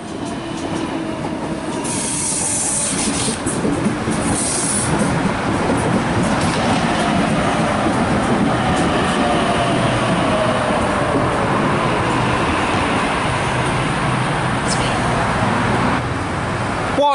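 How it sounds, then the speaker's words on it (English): Sydney Waratah train pulling into platform 2 at Milsons Point station, a loud sustained rumble of wheels and carriages with squealing and clacking, close by, with faint voices. "We have a Hornsby via Macquarie Uni service arriving on the platform number 2."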